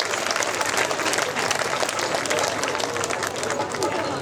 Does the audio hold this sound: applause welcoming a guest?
yes